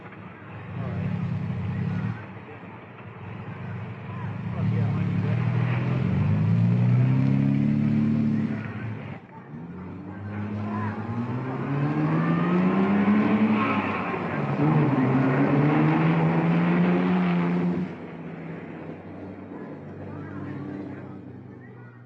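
Ferrari race cars in the 1961 Tour de France Auto climb through revs in sustained, loud engine notes, one pitch sweep after another as cars pass, with a brief dip between runs over a vintage recording hiss.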